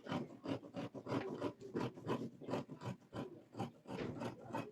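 Fabric being cut with scissors for a 360-degree flared dress, a rapid rhythmic series of close snipping and rasping strokes, evenly spaced and fairly quiet.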